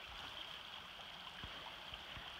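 Faint, steady rush of river water flowing at a hiking-trail crossing on the Appalachian Trail, a continuous soft hiss with no voices.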